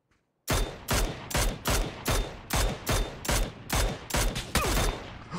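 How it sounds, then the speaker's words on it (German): Sustained gunfire in the battle royale game PUBG: about a dozen loud, evenly spaced sharp shots, each with a short echoing tail, close and alone. "es schießt wer auf uns?"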